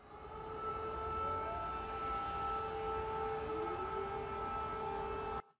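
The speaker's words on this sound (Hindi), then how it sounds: "ये सायरन बजा, आपने सुना।" A civil defense air raid siren in Ukraine wails loud and steady, its sustained tones slowly shifting in pitch before cutting off abruptly at the end.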